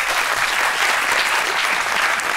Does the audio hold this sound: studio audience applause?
yes